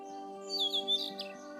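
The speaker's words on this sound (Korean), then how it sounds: "새들이 주변에서 부드럽게 노래를 불러줘요." Birds sing in a forest setting, a few brief bright chirps and whistled notes sitting over a sustained tonal musical drone, soft and fairly close, spread across roughly a second.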